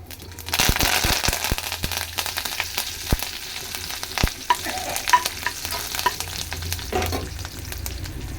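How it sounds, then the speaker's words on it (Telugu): Cumin, mustard seeds and curry leaves crackle in hot oil as a tempering, with a steady sizzle broken by sharp popping bursts throughout, close and loud. "జీలకర్ర, ఆవాలు తాలింపు వేసుకోవాలి."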